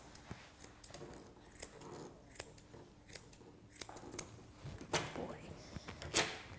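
Grooming scissors snip repeatedly at a Labradoodle's hock, a series of quiet, crisp, close cuts at an uneven pace, with faint background shuffling.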